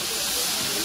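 Fish fritters in batter frying in hot oil, producing a dense, continuous sizzling hiss at a steady, fairly loud level throughout.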